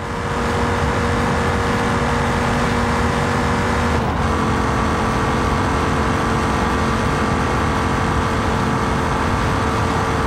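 A minivan engine at full throttle in a driving video game, a loud, constant high-revving drone with one brief shift-like dip partway through, no talking.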